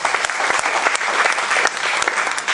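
A church congregation bursts into loud, dense applause during a sermon, many hands clapping together in a continuous, energetic roar with sharp individual claps standing out.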